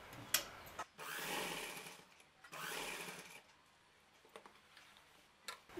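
A sewing machine stitches fabric for children's shorts in two quick bursts of rapid mechanical whirring separated by pauses, with scattered faint clicks and handling between runs.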